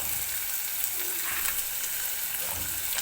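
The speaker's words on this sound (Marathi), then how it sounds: "तर कांदा सुरुवातीला व्यवस्थित भाजून घेणार आहे मी." Onion fries in a pan as the base for mutter paneer, producing a steady close hiss of sizzling oil with faint stirring scrapes, even and continuous.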